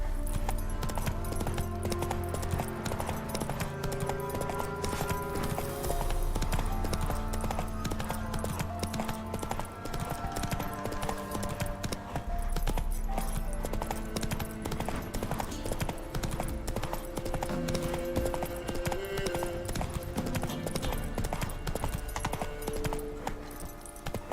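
Roach the horse galloping in The Witcher 3, a continuous rhythmic clip-clop of hooves that stays steady and fairly close throughout.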